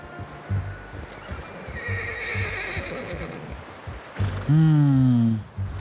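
A loud, drawn-out horse whinny in the video game Red Dead Redemption 2 rises near the end, over a steady outdoor background with faint hoof clopping.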